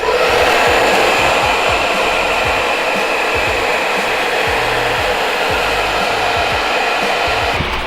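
A heat gun blows steadily at close range while heating carbon-fiber-look vinyl wrap on a 2017 Subaru BRZ headlight, producing a loud continuous whooshing roar with no speech.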